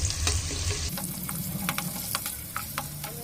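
Half a cup of onions frying in hot oil in a pan, a dense crackling sizzle with scattered pops and spatula scrapes throughout, no voices.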